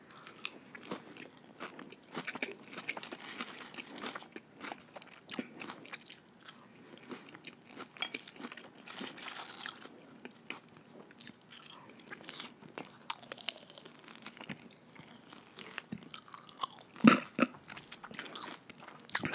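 Spinach being chewed close to the microphone during a vegan mukbang, with soft, irregular crunchy bites and moist chewing at low volume and no talking.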